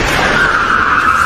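Tires skid in a film scene as a car is driven into a man, a loud, sustained screech holding one pitch for just over a second.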